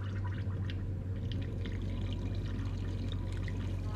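A Moen EX50c 1/2 HP garbage disposal runs under a sink with a steady, low, even hum and a faint watery rush, constant for the whole stretch.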